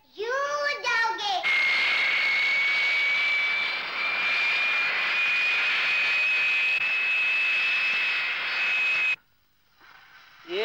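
A child imitates an airplane while playing, the voice making a loud, sustained whooshing engine drone with a steady whistling tone for several seconds; speech precedes it and it cuts off abruptly near the end.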